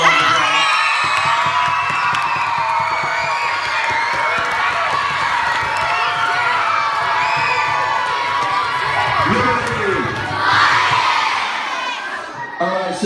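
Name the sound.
school assembly crowd applauding and cheering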